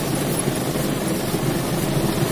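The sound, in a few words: car engine idling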